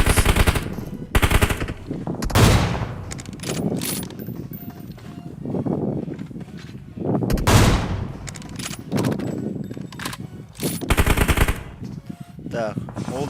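Bursts of automatic gunfire in a multiplayer shooter match, several rapid volleys spread through the stretch with gaps of quieter game ambience between them, loud and close.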